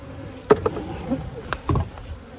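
Honey bees hum in a low, steady drone close by around a hive, with a few knocks and scrapes of beekeeping equipment over the buzzing.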